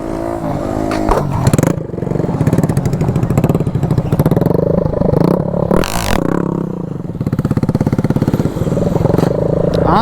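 A Bajaj Pulsar NS200 motorcycle revs hard during wheelie training outdoors, its engine rising and falling in repeated loud throttle blips with rattling clatter, close and continuous.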